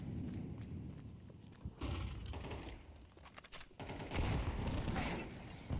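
Gunfire in a competitive shooter video game, bursts of rapid shots and single cracks spread across the clip at moderate loudness over busy game background noise.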